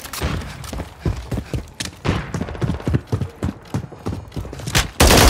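Rapid bursts of gunfire in Call of Duty MW3 multiplayer on the Greece map, sharp close shots in quick uneven clusters through the whole stretch, ending in a loud sustained blast.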